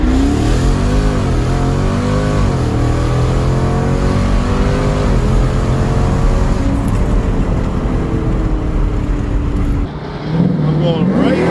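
A Dodge SRT in track mode accelerates hard, its engine revving up through repeated rising sweeps with gear changes, loud and close from inside the cabin, then dropping off sharply near the end.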